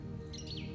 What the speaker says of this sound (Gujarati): ચકલીઓનો ખલબલાટ